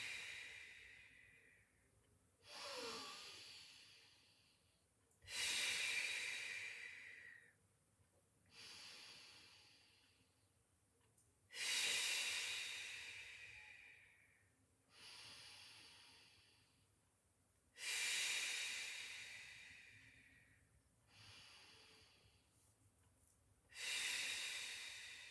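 Slow, steady breaths during a Pilates exercise, about eight airy inhale-exhale cycles in a calm rhythm, close and soft, each swelling then fading with short pauses between.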